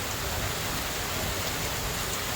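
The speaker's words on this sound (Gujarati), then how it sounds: "કાંઈ નીચે બહુ વરસાદ છે" Heavy rain pours steadily at night onto a tiled roof shelter, a dense, even hiss of drops that stays constant and alone, with no voices.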